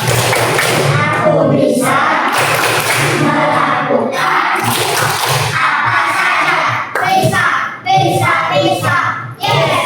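A class of schoolchildren performs a rhythmic spirit-clapping chant with their teacher, loud, close claps and thumps in quick patterned bursts mixed with children's chanting voices throughout.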